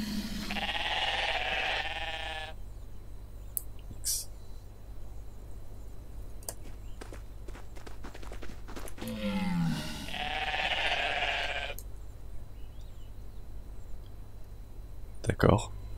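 Sheep bleat in the video game Everything, with two long wavering bleats several seconds apart and clicks and ticks between them.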